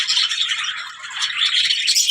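Zebra finches chirp in a dense, continuous chorus of high-pitched tweets from a breeding flock kept alongside budgies, loud and close with no talk.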